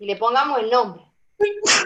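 Someone speaks, pauses, then lets out a short, sharp sneeze close by.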